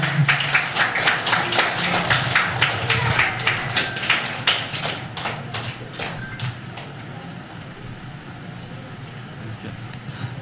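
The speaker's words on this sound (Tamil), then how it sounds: "ஒரு உற்சாகமான கைத்தட்டல் கொடுத்தா ரொம்ப சிறப்பாக இருக்கும்" An audience claps at a Tamil temple-astrology gathering, a dense patter of hand claps that is strong for about six seconds and then thins out into a few scattered claps.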